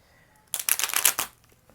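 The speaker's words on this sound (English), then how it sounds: "I have to shuffle it one more time again because this cut was a little janky" A deck of tarot cards is riffled in one quick, close burst of crisp flutter lasting under a second, with quiet before and after.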